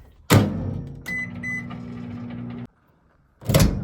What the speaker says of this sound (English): I'm going to put it in the microwave for probably